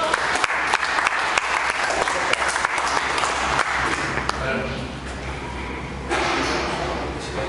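Sustained audience clapping at a bench press competition, loud and continuous with sharp individual claps standing out near the start before it settles into a steady crowd roar, with some talk mixed in.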